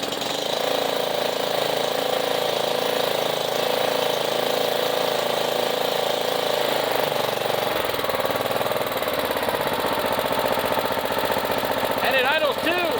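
A Yard Machine lawnmower engine idles steadily and close by, a continuous rough mid-pitched run with a slight shift partway through and faint clicks near the end.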